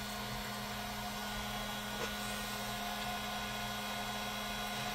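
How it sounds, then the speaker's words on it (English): Heat gun running at medium heat for hot foil transfer, a steady close whirring fan hum with a constant airy hiss, unchanging for the whole stretch with no talking. "we're going to turn the heat gun on. Just need it at medium"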